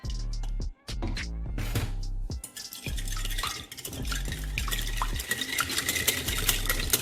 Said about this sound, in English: Mix, mélanger.